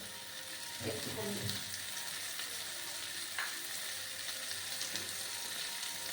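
Spices frying in a pan make a steady, faint sizzle with occasional stirring scrapes, and a voice talks quietly in the background.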